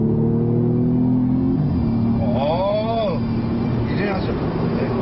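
Audi S3 in dynamic mode, automatic transmission, accelerating on the road: a steady, loud engine drone builds and shifts pitch as speed climbs, with a voice talking over it.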